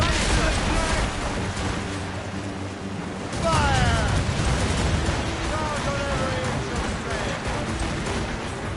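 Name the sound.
cannons firing from a ship in a video game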